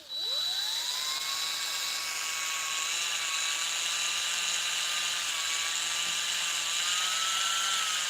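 A cordless drill on a weakening battery cuts into metal with a high, whining spin that rises quickly at the start and then holds a steady, slightly wavering pitch, loud and close, with no talking.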